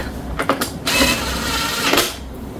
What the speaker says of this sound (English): Put this screw back.